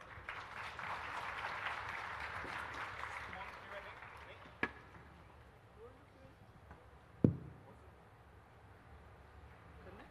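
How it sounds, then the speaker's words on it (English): A hall audience applauds after a panel session in Bangalore. The clapping is moderate and fairly distant, lasts about four seconds, then fades into room noise with talk and a couple of sharp knocks. "Show it to us with a round of applause, ladies and gentlemen."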